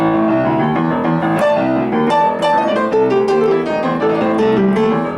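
A fast boogie-woogie piano riff, a busy rolling left-hand pattern under quick right-hand figures, played loud and continuous.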